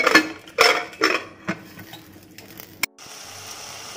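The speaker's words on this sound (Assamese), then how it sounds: "কুকাৰটো মাৰি দিম" A pressure cooker lid is handled with a few close metallic clanks and knocks, then a sharp click as it locks shut, followed by a low steady hiss.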